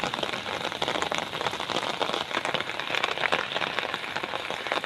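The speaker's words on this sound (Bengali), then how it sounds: "খুব বৃষ্টিতে" Heavy rain pours onto a village road during a midday storm, a dense, steady roar of drops with no pauses that stays loud and close throughout, with no voices.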